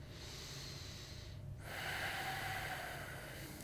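Soft, close breathing while holding a yoga pose, a long steady exhale followed by a fuller inhale through the nose, faint and unaccompanied by speech.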